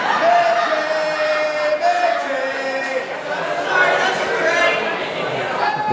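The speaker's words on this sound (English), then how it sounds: "The crowd trying to rally behind Waterman" A wrestling crowd at a live Renegades of Wrestling event rallies behind the wrestler Waterman, a steady roar of chatter and scattered whoops and cheers that holds loud throughout.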